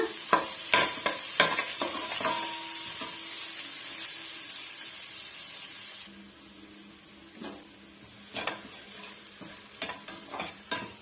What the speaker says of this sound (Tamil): நான் லைட்டாக மட்டும் வெங்காயம் சேர்த்துக்கிட்டேன் கொஞ்சமாக கருவேப்பிலை வதக்கி விட்டுக்கலாங்க